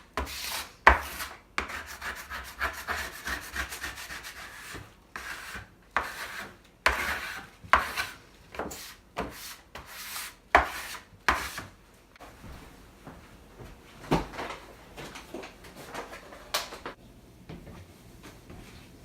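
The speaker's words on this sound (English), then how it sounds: "It's also an excellent tool for cleaning up your countertop or pre-cleaning some of this flour mess from the surface of your counter" A napkin wipes flour off a countertop in a series of short, scraping rubs, a dozen or more uneven strokes close by with brief pauses between them and no voices.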